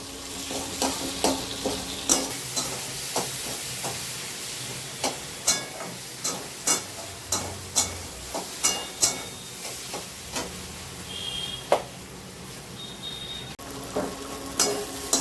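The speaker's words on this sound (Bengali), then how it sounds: "গ্রেট করে রাখা আদাটা দিয়ে দেবো। ভালো করে একটু কষাবো" Grated ginger sautéing in a pan with green chillies, a steady sizzle under a regular series of sharp spatula scrapes and knocks as it is stirred.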